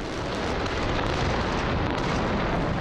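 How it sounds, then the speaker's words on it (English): Fireworks burst over and over outside ancient city walls during a nightly festival display, a loud, dense and continuous roar of overlapping explosions with no breaks. "there is a rousing fireworks display outside the city's ancient walls."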